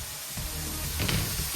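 Chicken pieces frying in a hot pan for Cajun chicken and sausage jambalaya, a steady close sizzle with brief stirring bursts partway through.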